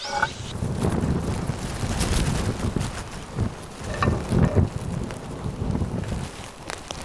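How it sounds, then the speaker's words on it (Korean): Wind and rain lash the grounds of a fermentation research centre during a typhoon, a continuous gusty roar with buffeting against the microphone and a few louder bursts, no voices. "비바람이 몰아치는 연구소"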